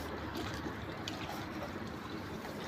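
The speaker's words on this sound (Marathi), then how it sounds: "पोहत आहेत ते." River water laps and trickles around a lone swimmer on a cold morning, a soft continuous wash heard faintly and close, with no voices.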